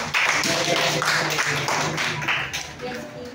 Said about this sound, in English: Let's give 5 claps for everyone